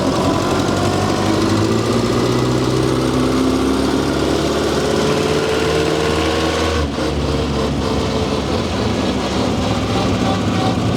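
A loud steady engine drone comes from a 100-year-old car driving through roundabouts, holding a constant rumbling note with a slight pitch shift midway, close and continuous throughout.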